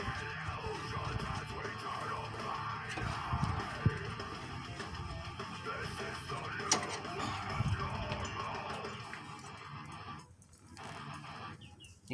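A 13/16 socket ratchet removes bolts during front wheel bearing work on a Volkswagen Atlas, giving quiet, close mechanical clicking and clattering, with a couple of sharper knocks, over low background noise.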